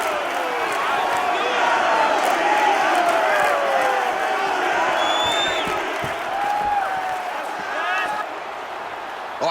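Arena crowd noise from the EA Sports UFC 6 video game before a flyweight championship bout, a steady roar of cheering and whoops from a capacity crowd that holds at a constant level throughout.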